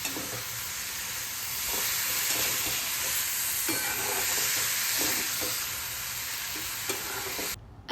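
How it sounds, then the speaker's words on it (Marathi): Onion, spices and wild monsoon mushrooms sauté in a pan in a Konkan kitchen, giving a steady loud sizzle with scattered scraping stir clicks, then cutting off abruptly near the end. "कांदा आणि हे सगळे मसाले पूर्णपणे परतून झाल्यावरती मग अळंबी टाकली."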